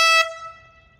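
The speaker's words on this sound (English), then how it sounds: "Loud air horn." A handheld air horn, bought cheaply at Walmart, gives one short, loud, piercing blast that cuts off after a fraction of a second and leaves a brief fading ring.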